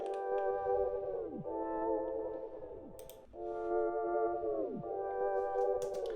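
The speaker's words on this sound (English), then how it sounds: "it's basically just a really simple synth sound from one of the basic FL Studio plugins" A plain synth pad from a basic FL Studio plugin, played dry with no effects: sustained harmonic chords that swell in and drop away in pitch at the end of each phrase, repeating about three times, alone with no talk.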